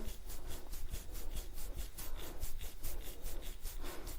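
Fingers rub the skin behind the ears during a neck-exercise massage, producing a close, steady, rhythmic scratching and rubbing of quick even strokes with no talking.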